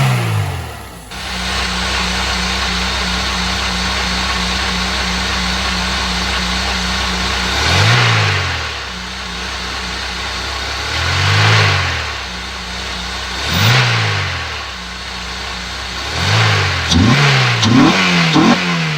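An Acura RSX four-cylinder engine with a newly installed intake idles steadily, then revs up sharply five times in a row, with quicker blips near the end, loud and close.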